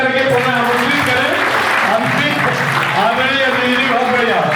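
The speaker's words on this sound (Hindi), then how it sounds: "जोरदार ताली बजा करके पुनः आमंत्रित करें" Audience clapping at a Hindi poetry gathering, a dense, loud, continuous wash of applause with voices talking over it throughout.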